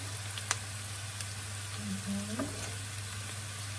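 Onions frying in a pan as pepper and spices are added, a steady close sizzle with a few light clinks of stirring and a low hum underneath, without talk.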